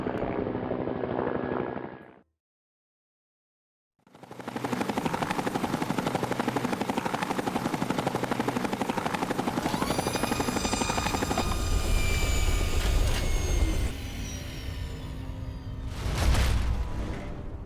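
A vertibird aircraft arriving in the Fallout video game, its rotor throbbing loud and steady. It cuts out briefly, then returns with whistling turbine whine and rushing wind layered on top.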